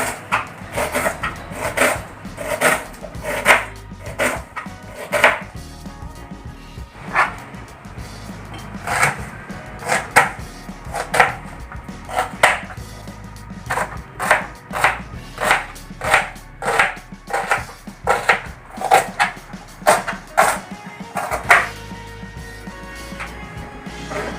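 Onions being chopped into small pieces with a knife on a board, giving steady rhythmic sharp taps in quick runs, close and clear, with no talking.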